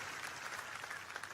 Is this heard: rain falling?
no